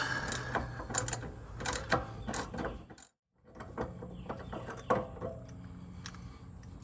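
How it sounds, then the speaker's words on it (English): A 14mm socket on a ratchet wrench works loose a rear suspension bolt on a 2005 Honda Pilot, giving rapid ratcheting clicks close up, a brief silent pause, then more clicking and metallic rattles. "pop our 14mm socket up in there, and just try to work it loose"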